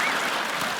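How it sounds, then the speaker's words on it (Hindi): Studio audience applause on a comedy show, a brief dense burst of clapping from many hands, loud and close, filling the short moment without talk. "इसमें ताली बजाने वाली कौन सी बात हुई?"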